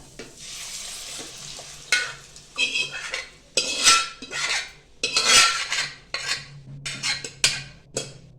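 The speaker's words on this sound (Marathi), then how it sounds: "आता आपण ही जी डाळ शिजवून घेतली होती कुकरला, ते डाळ आपण टाकतोय बघा." Cooked dal, pressure-cooked beforehand, is tipped into a pan of sizzling spice tempering and stirred, giving a run of close scraping and clattering stirring strokes over a faint frying sizzle, with no talk.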